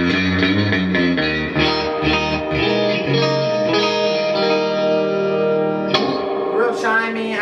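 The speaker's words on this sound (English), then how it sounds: "That normal Fender reverb." Electric guitar played through a Fender '68 Deluxe Reverb amp set with heavy reverb, a run of clear picked notes and chords ringing into a long wash, loud and close, with no talking.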